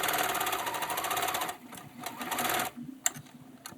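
A sewing machine stitches lace onto a t-shirt neckline, a fast close mechanical whir of needle strokes that pauses briefly, restarts, then stops with a small click.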